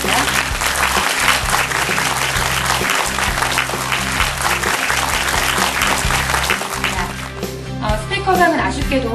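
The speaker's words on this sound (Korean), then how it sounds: "큰 박수 부탁드립니다." Sustained audience applause at a national university student debate contest award ceremony, steady dense clapping filling the whole stretch with a low hum and some background voices underneath.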